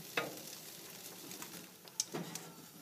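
Eggs frying on a hot griddle beside cooking onions, a faint steady sizzle with a couple of soft taps and clicks from cookware, no talking.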